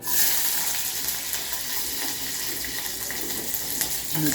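Green chillies crackle and sizzle in hot oil in a pan, a steady, close, broadband hiss that runs throughout with small pops, and no voices.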